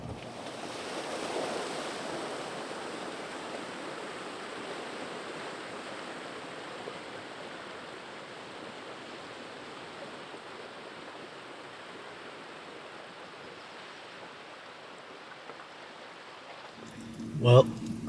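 Steady rushing water at a stream crossing in Newfoundland fills the scene, a broad continuous wash like a stream pouring over rocks, with a brief louder knock near the end.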